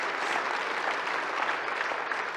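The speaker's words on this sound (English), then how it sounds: "You can certainly clap at that." An audience at a speech by the Mayor of Chicago claps together, a soft, even spread of applause from a large room lasting a couple of seconds.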